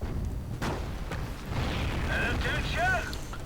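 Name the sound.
explosions as a base gets blasted in a video game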